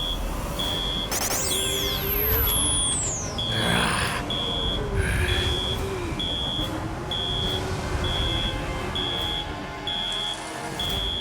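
An alarm in an animated cartoon beeps in a steady, evenly spaced electronic pattern throughout, over a dense backdrop of whooshing sweeps, rumble and cartoon effects; no one speaks.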